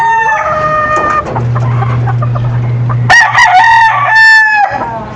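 A yellow-legged gamefowl rooster crows loudly and close by, a long strained call followed by a second harsh crow, with a low steady hum and background noise underneath.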